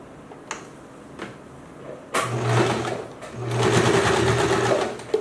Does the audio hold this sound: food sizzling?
no